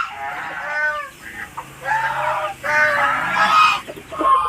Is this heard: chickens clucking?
yes